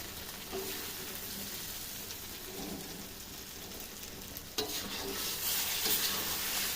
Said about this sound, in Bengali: মাছ দিয়ে দিব মাছ দিয়ে আর পাঁচ মিনিট কষাবো